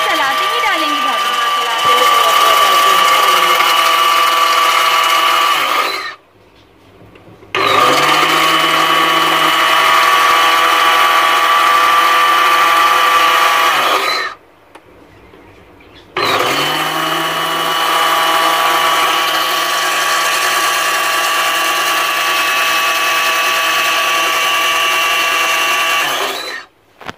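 A blender whirs loudly while making homemade mayonnaise, running in two long bursts of high steady motor whine separated by brief pauses, with a voice talking over it.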